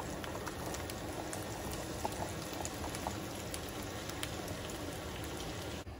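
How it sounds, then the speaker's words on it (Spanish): Potatoes fry with chorizo in hot oil in a pan, a dense, steady sizzle and crackle with scattered pops, close and continuous with no talking. "ahora ya le vamos a poner las papitas para que se doren junto con el chorizo."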